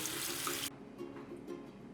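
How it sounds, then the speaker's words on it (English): Lentils rinsed under running tap water at a kitchen sink, a steady hissing stream that cuts off abruptly after a moment, followed by faint dripping and light handling sounds. "So now that the lentils are rinsed"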